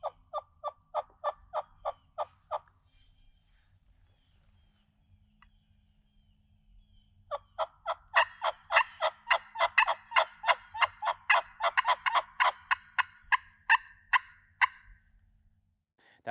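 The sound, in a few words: two hen turkeys imitated on calls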